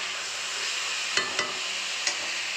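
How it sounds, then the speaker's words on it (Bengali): Pointed gourd and potato pieces frying in oil, a steady bright sizzle that runs throughout, with three short scraping taps of a spatula against the pan near the end. "এদিকে বসিয়ে দিয়েছি কাঁকরোল আলু ভাজা"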